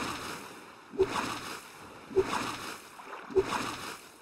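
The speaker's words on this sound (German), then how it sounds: "Motor." A boat motor in the survival video game Stranded Deep runs with a steady low drone, while the hull slaps the water in three evenly spaced thumps about a second apart.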